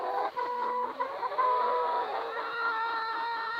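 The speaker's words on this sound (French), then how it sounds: "cette poule là, à chaque fois, elle crie comme ça là." A hen at a poultry farm clucks and cries out repeatedly in rising, squawking calls, fairly close and alone, with other fowl faintly in the background.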